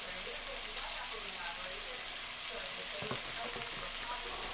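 Curry- and cumin-seasoned chicken sizzles steadily in a hot pan, a dense, even frying hiss running close and continuous throughout.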